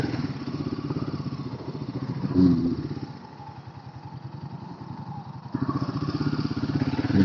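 Royal Enfield Himalayan motorcycle climbing uphill on a village hill road, its engine a steady close throbbing that dips quieter in the middle, then swells back, with a brief thump partway through.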